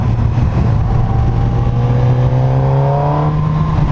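A 2019 Suzuki GSX-S 1000F motorcycle engine accelerating hard, a loud close rising drone with climbing harmonics and no speech.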